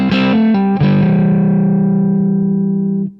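An electric guitar lick with heavy distortion: a few quick picked and hammered notes, then one note rings out loud and sustained for several seconds before cutting off.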